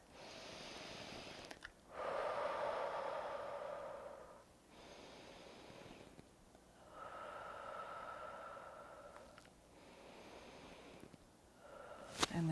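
Slow, deep breaths drawn during a seated cross-body shoulder stretch in a cardio flow workout, several long inhales and exhales rising and falling in a steady rhythm, close and fairly quiet, with no talking.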